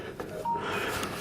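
A phone beeps briefly during a wheel cleaner test, with a short tone standing out over a quiet, steady background hum.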